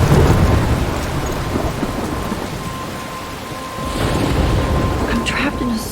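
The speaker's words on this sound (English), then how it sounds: "I'm trapped in a storm?" Thunderstorm with steady heavy rain in the Life is Strange video game, a continuous wash of rainfall with low rolling thunder swelling near the end, loud and close with no talking.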